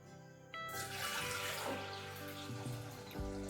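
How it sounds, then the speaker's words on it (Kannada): Water pours steadily from a tap onto split moong dal in a vessel, starting abruptly with a rushing stream and continuing close and loud, pitch shifting as it fills. "ಈಗ ನೀರು ಹಾಕ್ಕೊತೀನಿ"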